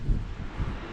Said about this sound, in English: The wind is blowing like crazy here in upstate New York.